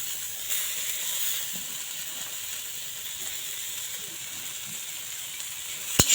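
Cut pieces of roti going into a hot pan for roti chowmein, a steady soft sizzle and hiss throughout, ending with a sharp clatter.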